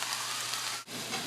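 Steady sizzling of onions, garlic and mushrooms sautéing in a pan, a soft even frying hiss with a brief dip near the end, fairly quiet and with no talking.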